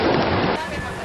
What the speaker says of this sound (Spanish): Empezamos nuestra ruta viajando por el río Napo para llegar a la comunidad Xiripuno